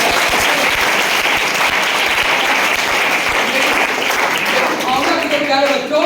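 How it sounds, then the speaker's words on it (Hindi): Audience applause during an education and motivation talk, a sustained burst of crowd clapping that stays loud throughout, with voices mixed in near the end. "इस पर ताली बजनी चाहिए"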